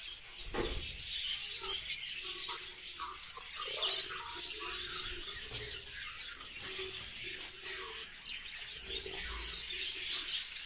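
Diamond doves on a breeding farm give soft, repeated coos and chirps at low level against a busy, noisy background, with the calls rising and falling throughout.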